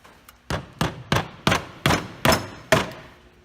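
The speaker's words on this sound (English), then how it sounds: "I guess we gotta hit this with a hammer a little bit." Seven sharp hammer strikes land on a quarter midget racing engine part, evenly spaced and ringing close and loud with brief decays between blows.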